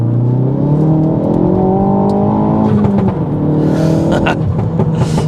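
A Mk4 Ford Focus ST with a Stage 2 tune revs up steadily in second gear with a rising whine that levels off, loud and close, followed by rushing road and wind noise.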